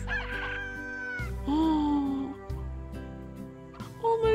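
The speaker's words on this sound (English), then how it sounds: "No, we lost all those chickens." Chickens in the video game Slime Rancher cluck and squawk in a busy overlapping flurry, close and fairly loud over a sustained musical game backdrop.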